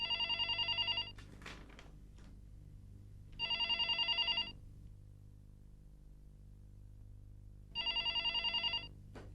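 A telephone bell rings in three separate bursts, each about a second long with rapid trilling, clear and close, separated by quiet stretches of room tone and faint rustling.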